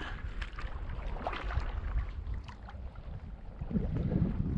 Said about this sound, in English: The wind keeps changing direction, so I think it's gonna be at our back here real soon.